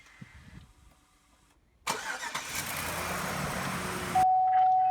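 A car engine cranks briefly, then catches and settles into a steady idle, close and loud, with a thin whine over the idle near the end. The car has just come through a battery check after not starting, and no one talks.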